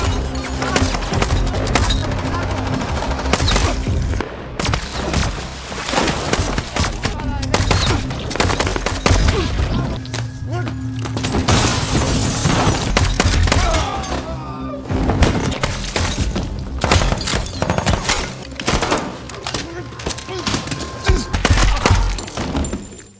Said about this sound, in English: Not long after, a shootout breaks out.